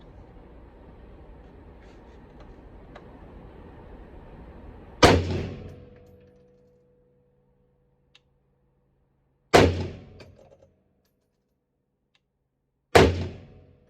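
Three loud, sharp rifle shots from an M1A Socom .308 ring out at an outdoor range, spaced several seconds apart, each followed by a short decaying echo and quiet between them.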